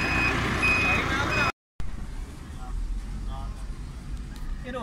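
A tow truck reverses at an international airport to haul away a wrongly parked car, its steady repeating reversing beeps sounding over engine rumble and traffic while people talk nearby.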